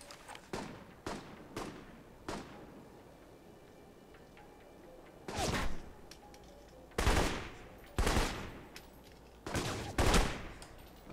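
Gunfire from the video game Alpha Protocol comes in sharp single shots early on, then several louder, longer bursts spaced a second or so apart over a low background.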